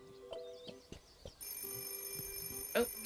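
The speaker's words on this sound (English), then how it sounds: "Oh, somebody's calling on the phone." An in-game telephone rings in Chicory: A Colorful Tale, a bright tone that starts partway through and holds steadily against soft background music and effects.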